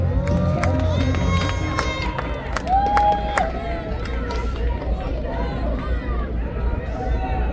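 Large crowd at an outdoor political rally near Samgakji Station cheering and shouting loudly and continuously, with whistles and scattered voices rising over a dense roar; applause is hard to pick out beneath the noise.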